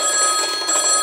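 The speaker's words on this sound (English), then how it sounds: "answer the phone" A telephone rings during a theater stage production of a comedy about the Kennedy assassination. A steady, bright electronic tone holds throughout, loud and close, with no talk over it.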